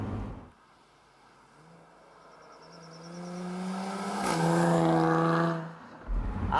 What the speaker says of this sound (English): Step on the gas and the engine still purrs gently.